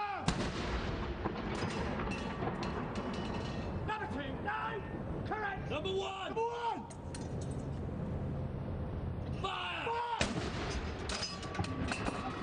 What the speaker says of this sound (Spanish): Todo esto, salva de más de 40 cañonazos